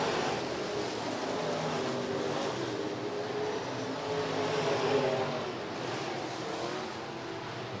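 Hobby stock and B-modified race cars roar around Rapid Speedway in a steady, distant wash of engine noise, the pack's sound swelling slightly and fading with no voices over it.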